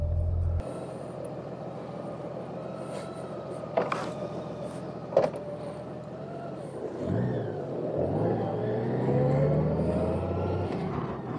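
A 2018 Honda Goldwing motorcycle rides along on a spring day, its smooth engine steady under wind rumble, with a couple of sharp clicks and a gradual rise in revs toward the end.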